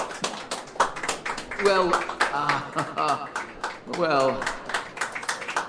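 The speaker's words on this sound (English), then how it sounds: "Let's all give him a big hand. A round of applause." Sharp, uneven clapping from a small group celebrating an employee, individual claps ringing out under loud overlapping voices.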